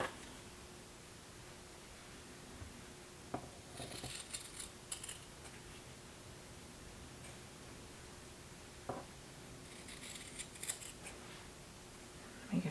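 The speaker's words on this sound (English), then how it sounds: "I am going to cut the batting" Scissors cutting quilt batting and fabric, quiet crisp snips in a few short clusters with faint rustling against a low background hiss.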